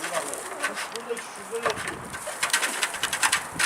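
Pigeons cooing on a rooftop pigeon loft, soft repeated coos close by, mixed with rustling and background noise.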